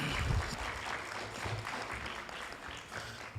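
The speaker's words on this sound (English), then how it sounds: "the parents deserve a round of applause as well" Audience applause for parents at a school competition event, a quiet, distant-sounding spread of clapping that holds steady for a few seconds with some low rumble underneath.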